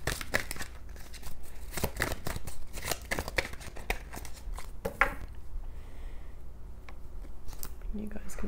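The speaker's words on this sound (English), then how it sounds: "Eddie, can I have 4 more cards, please?" Tarot cards are shuffled and drawn by hand in a quiet room, giving a run of crisp, close flicks and riffling snaps that thin out after a few seconds into sparse card taps and handling noises.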